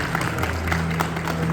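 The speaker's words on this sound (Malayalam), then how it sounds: "കരുൺ ഒരു കൈയടി കൊടുക്കണം." Audience clapping for a prize winner at a book festival ceremony, a short burst of applause from a crowd, fairly close and steady.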